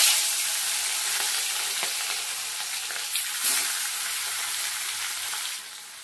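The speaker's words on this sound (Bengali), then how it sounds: "এবার মাছটা ভেজে নেব।" Parse fish rubbed with turmeric and salt frying in hot oil, a steady dense sizzle that runs the whole time with a couple of brief louder crackles, close and alone, easing off slightly at the end.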